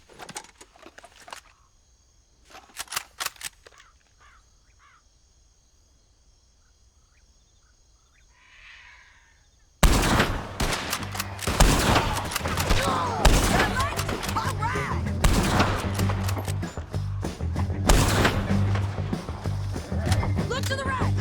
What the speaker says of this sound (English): Let's just start shooting.